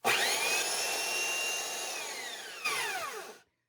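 A belt sander runs steadily at close range, a loud airy whir with a high motor whine. It gives a brief surge, then the pitch falls away as it spins down to silence.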